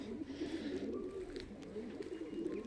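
Soft pigeon cooing murmurs steadily through the whole stretch, low and continuous, with faint rustling in the background.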